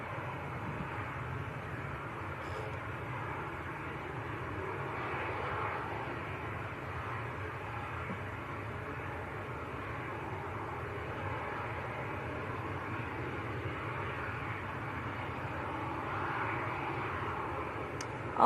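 Jet2 airliners taxi at Manchester Airport, a steady distant jet engine roar and whine that holds level throughout at moderate loudness.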